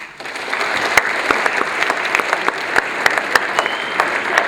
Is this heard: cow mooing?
no